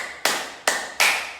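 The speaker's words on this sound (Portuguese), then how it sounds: "eu tenho vários tipos de palmas." Three crisp hand claps in a slightly uneven rhythm, each ringing briefly, close up and alone.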